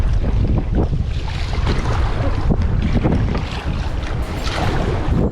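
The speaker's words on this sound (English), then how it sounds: "It's getting a bit windy." Strong wind roars steadily across open water, buffeting the microphone with a dense, continuous rush and low rumble throughout.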